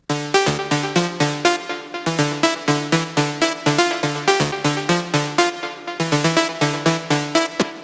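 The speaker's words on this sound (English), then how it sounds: "This sound was made with Arturia Mini Brute" Arturia MiniBrute analog synthesizer playing a steady, punchy sequence of short plucked notes in a regular rhythm, bright and upfront with a pause before the pattern restarts.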